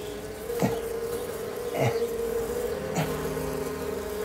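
Bees buzz steadily around a beehive, a constant close drone with a few louder swells as individual bees pass near, no talking.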